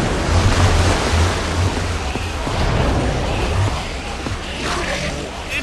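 Water gushes out after a lever is pulled in the video game Minecraft Story Mode, a loud, rushing wash of noise that surges and eases like pouring surf, with faint voices underneath.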